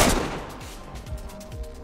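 One loud gunshot goes off in the video game DayZ. A sharp blast opens the clip and a rumbling tail fades away behind it.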